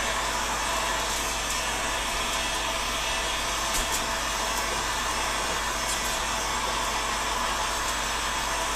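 A hair dryer blows a constant, close, loud whooshing roar while heating a Scythian-style horse bow during shaping, steady throughout with only faint small knocks from handling and no talking.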